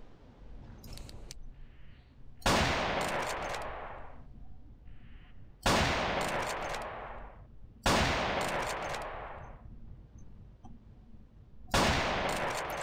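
Four loud, sharp gunshots from a weapon in the game Carnivores Triassic, spaced a few seconds apart, each one a sudden blast that rings out and decays slowly, with quiet mouse clicks and faint ambience between them.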